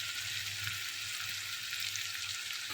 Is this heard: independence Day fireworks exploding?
no